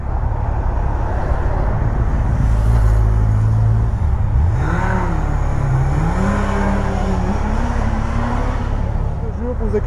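A motorcycle with a pierced, leaking exhaust idles and revs, a rough steady engine roar with rising pitch sweeps, while people talk over it.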